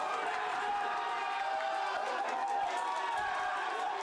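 A crowd packed into a shop roars and cheers after a long-range goal in a World Cup match, a sustained, dense wall of shouting voices that stays loud and even throughout.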